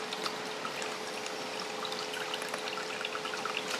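Water rushes steadily through a gold panning sluice at home, a continuous bright splashing wash with a faint steady hum beneath, close and even, with no voices.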